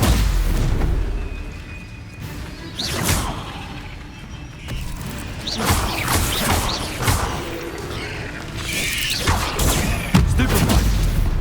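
Spells cast in rapid succession in the video game Hogwarts Legacy, the Stupefy stun among them: repeated booming magical blasts and whooshing crashes over a rumbling low soundtrack, loud and close, with no talking.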